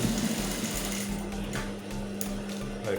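A sewing machine top stitches an invisible zipper onto a senator or kaftan dress, giving a steady, close mechanical whir with a rapid needle clatter that runs unbroken throughout.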